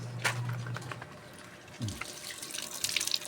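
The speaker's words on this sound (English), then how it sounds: "Gotta wash my hand off." Running tap water while hands are washed at a sink, with a steady broadband rush broken by brief splashes and a short low thud midway, moderately close and with no talking.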